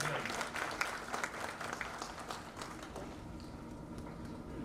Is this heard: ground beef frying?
no